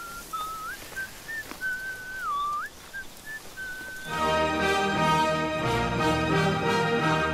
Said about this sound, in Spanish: Tyrion está silbando una melodía que curiosamente corresponde a una de las sinfonías de Beethoven